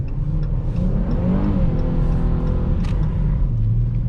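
A heavy V6 car of 4,063 lbs accelerates on a road, its engine note rising and revving steadily under a constant loud interior rumble, heard up close without talk.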